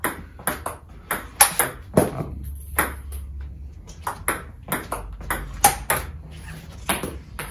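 Table tennis balls struck with Omega VII China rubber in a rally, each hit a crisp ringing ping followed by quick table bounces, loud and close in a steady irregular rhythm with no voices.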